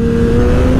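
A motorcycle engine droning at steady high revs with the throttle held open, loud and close with a strong tonal whine, continuous for under a second.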